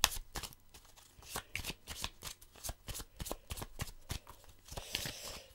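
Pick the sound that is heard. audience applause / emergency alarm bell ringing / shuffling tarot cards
shuffling tarot cards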